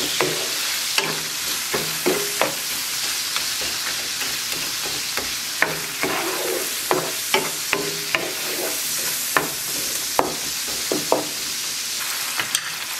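Ground beef with mushrooms sizzling in a pan while a utensil stirs and scrapes, steady frying hiss under repeated sharp clicks and knocks against the pan, close and fairly loud.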